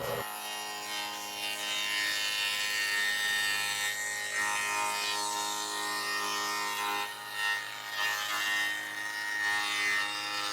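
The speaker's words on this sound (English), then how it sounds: "rabbet out the back of the plywood on the top and the back" Table saw cutting a rabbet along the back edge of a plywood cabinet panel, a continuous close, loud, gritty whir of blade through wood lasting about ten seconds with slight dips in intensity.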